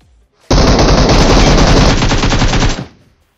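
Rapid automatic gunfire from the BGMI battle royale game, a loud, dense, continuous burst that runs for about two seconds and then cuts off sharply.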